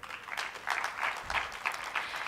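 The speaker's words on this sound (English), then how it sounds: "A big clap to the panelists." Applause from a conference audience for a panel, heard as a faint, distant patter of clapping with uneven bursts across a couple of seconds, low in level.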